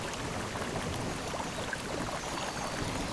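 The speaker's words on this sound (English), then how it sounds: "And even the rain on the water and the sound effect of that." Rain falls on water in the survival video game Carpathian Survival, a soft, even hiss of drops that stays faint and constant without any voices.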